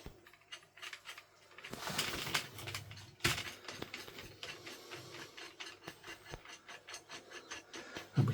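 Metal nut spun along a threaded bolt on a Christmas light prop frame, giving close, steady ratcheting clicks and scraping rubs with a few sharper knocks, no talking.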